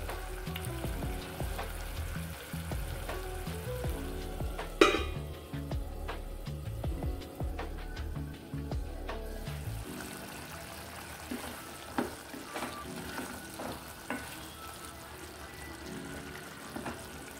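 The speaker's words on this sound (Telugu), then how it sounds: "ఇప్పుడు మనం మూత పెట్టేసి ఈ కూరగాయల్ని కాసేపు ఉడికిద్దాం." Vegetables simmer in hot water in a covered pan, giving a soft, continuous bubbling sizzle with occasional light clinks, quiet and close.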